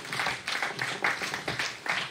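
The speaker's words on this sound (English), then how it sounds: "Let's welcome them with a round of applause." An audience at a project management conference applauds to welcome panelists, a steady moderate wash of many hands clapping with rhythmic surges, heard alone.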